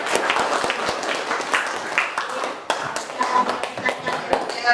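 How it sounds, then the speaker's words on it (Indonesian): Scattered, uneven clapping from a small group in a classroom lesson, individual claps distinct and near, with a voice speaking partway through. "beri tepuk tangan dulu"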